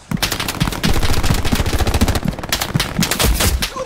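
Rapid automatic gunfire from a World War II shooter, Hell Let Loose, in sustained bursts with a few brief gaps, loud and close throughout, with no talking over it.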